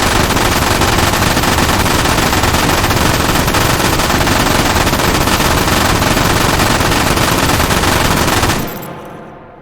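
Sustained machine gun fire in the H3VR virtual reality shooting range, a dense, loud, unbroken burst of rapid shots lasting nearly ten seconds before cutting off abruptly into a short decaying echo.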